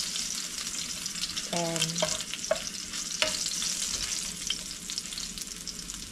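Garlic browning in a pan for chicken adobo: a continuous sizzle with occasional stirring scrapes, and a single word spoken briefly early on.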